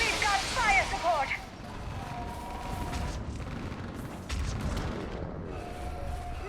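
Artillery fire support in the video game Mass Effect 3 rumbles and booms in the background, with heavy low thuds beneath sharp electronic weapon effects and a voice speaking over it.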